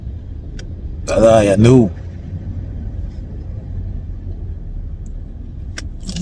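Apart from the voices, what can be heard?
car driving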